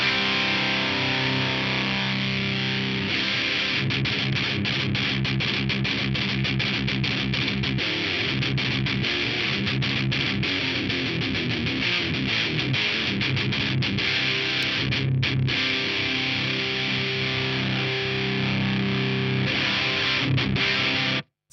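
Electric guitar played through a Carvin Quad-X tube preamp with heavy distortion and a loose, flabby low end, dense chords ringing continuously and loud for about twenty seconds, then cutting off abruptly.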